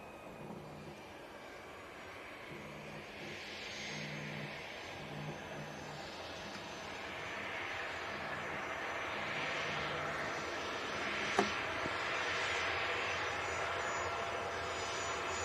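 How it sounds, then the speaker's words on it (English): A Cessna Citation 680 business jet at Leeds Bradford Airport produces a steady, distant engine roar that swells gradually over several seconds, with a faint low hum beneath it. "Cessna Citation 680."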